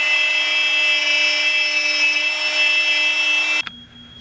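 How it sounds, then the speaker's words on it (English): A router fitted with a 1/4 inch upcut bit screams at steady high pitch while cutting wood for a teardrop trailer tongue box lid, loud and close, then cuts off abruptly and spins down near the end. "this is a 1/4 inch upcut bit, and that's gonna give you my 1/4 inch cut."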